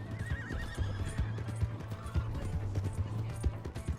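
A horse in Red Dead Redemption 2 whinnies with a wavering high call near the start, then hoofbeats pound in a steady galloping rhythm beneath a dense layer of game sound and music.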